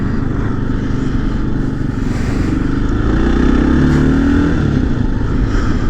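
A Kawasaki KLR 650 motorcycle rides along with a constant loud engine drone and heavy wind rush, rising slightly midway as the engine revs.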